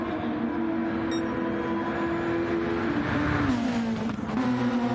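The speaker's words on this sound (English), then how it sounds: "Flying around the final corner and powering down the front straight." Formula race car in the Lake Maggiore Grand Prix, Project SF1, powering down the front straight, a loud sustained engine whine holding pitch and then dipping briefly on a shift before climbing again.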